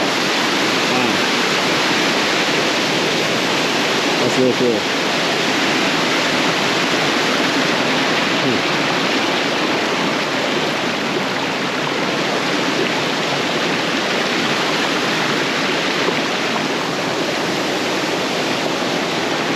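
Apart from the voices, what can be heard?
water splashing down onto rock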